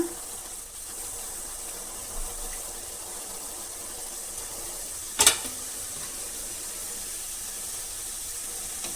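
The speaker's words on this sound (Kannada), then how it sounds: "ಇವಾಗ ಡೀಪ್ ಫ್ರೈ ಮಾಡೋಣ" Karikadubu sweet dumplings deep frying in hot oil, a steady soft hiss of bubbling oil running throughout with one short sharp crackle midway, no voices.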